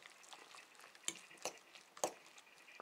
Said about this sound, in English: it's still a little bit of liquidy, so I'm just going to re-stir it